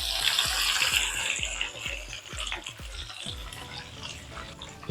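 Quail pieces, chest spread open, sizzle in hot oil in a pan, with a rapid series of sharp crackles and pops over a steady hiss that softens toward the end.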